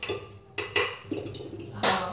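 Grated carrots for carrot halwa going into a pressure cooker: several sharp metallic clanks and scrapes of utensils against the pot, spaced irregularly and close by, with no talking.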